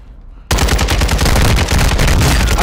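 Rapid automatic gunfire in the video game Call of Duty: Modern Warfare II erupts suddenly after a brief quiet moment, a loud, dense, continuous burst of shots that lasts to the end.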